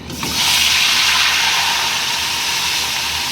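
Headless prawn bodies drop into hot oil for a prawn biryani, setting off a loud, steady sizzling hiss that starts abruptly and holds evenly to the end, with no talking.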